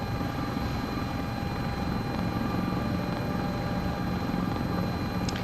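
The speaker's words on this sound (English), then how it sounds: "It's not a mountain flying helicopter" A CowanSim helicopter in Microsoft Flight Simulator 2024 climbs up a mountainside at its power limit, giving a steady, continuous rotor and turbine drone with no breaks, close and even throughout.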